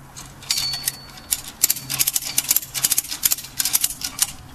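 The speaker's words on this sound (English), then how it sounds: "ratchet, tighten it up" A ratchet tightens the strap on a towing A-frame, making a rapid run of close, sharp clicks in uneven bursts over a faint background hum.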